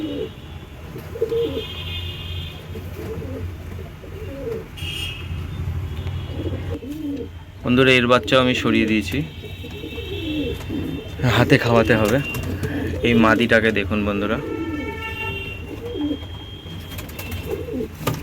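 Pet pigeons coo in low, throaty bursts close by, with the males and females of an old household loft repeating their calls while someone talks over them in Bengali.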